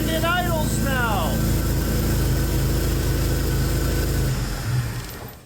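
A Jeep TJ engine idles steadily with a low, even rumble close by, while chirpy whistling tones sound briefly near the start and the idle fades slightly at the end.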